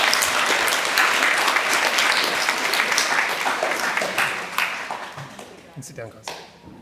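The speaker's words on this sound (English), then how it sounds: "Please give these lovely people a round of applause." A school assembly crowd applauds students receiving citizenship awards, dense sustained clapping that fades toward the end with a few scattered claps, voices murmuring underneath.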